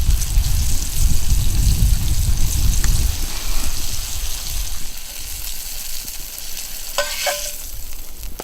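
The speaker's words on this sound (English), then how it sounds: "We're going to get them breaded and put them in a pan full of oil with some potatoes." Breaded fish and potatoes sizzle in a pan full of oil over an outdoor cooking fire in Northern Ontario, a loud bubbling crackle at first that settles into a steadier hiss, with a brief clink near the end.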